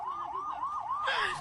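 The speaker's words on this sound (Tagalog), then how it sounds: "Wala rin daw patid ang pagtunog ng sirena dahil sa mga bomba nitong mga nakalipas na araw." An emergency siren wails with a fast, repeating up-and-down warble, then shifts pitch near the end, loud and steady, sounding amid bombings in the area.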